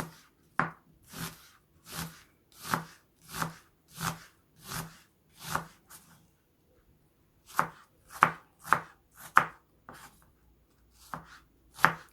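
Knife chopping a large onion on a cutting board: steady, evenly spaced crisp chops, a brief pause, then another run of chops, close and clear with no speech.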